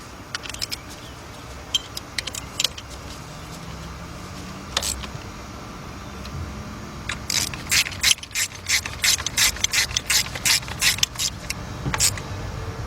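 A ratchet tightens bolts on the coolant pipe of a 1996 Dodge Intrepid, loud close clicking strokes in short bursts that turn into a faster, steady run of ratcheting near the end, with no talk.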